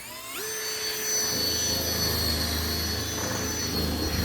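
Cordless drill boring bolt holes through a floating dock during step installation, a steady high whining motor that spins up quickly and then holds a loud, continuous drilling tone, close and alone.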